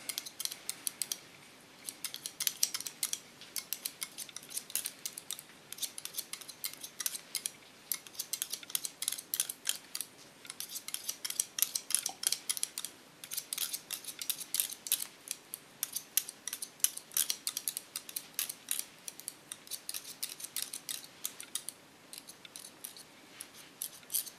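Scissors snip steadily through hair during a cut and color above the ear, with dense bursts of quick metallic clicks close up, pausing briefly now and then, with no voices.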